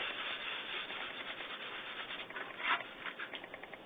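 Sandpaper rubbing steadily over a cosplay Black Ranger helmet, a continuous close, dry scratchy hiss with a brief louder stroke near the end and no talking.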